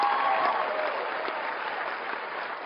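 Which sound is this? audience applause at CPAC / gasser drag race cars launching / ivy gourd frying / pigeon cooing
audience applause at CPAC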